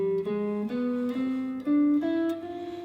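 Guitar plays a C harmonic major scale, single notes stepping upward one after another in a smooth sustained run, close and clear with no talking.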